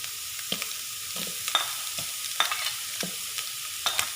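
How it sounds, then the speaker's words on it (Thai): Onion and pork stir-frying in a pan for fried rice, a soft, steady sizzle broken by regular scraping clacks of a spatula against the pan, close and alone. "ตามด้วยเราใส่หัวหอมลงไปเลยครับ หมูลงไป"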